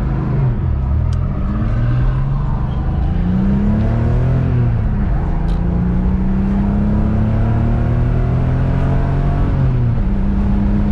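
A truck and cars pass on a road in Door County, Wisconsin, their engines rising and falling in successive loud, close drive-bys over a steady rumble, with no talk.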